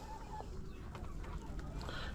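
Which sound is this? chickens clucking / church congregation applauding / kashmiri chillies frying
chickens clucking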